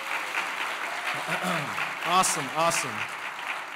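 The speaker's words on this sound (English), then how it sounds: "give them another big round of applause" An assembly audience at a school MLK Day community gathering applauds student presenters, steady clapping running beneath a speaker's voice.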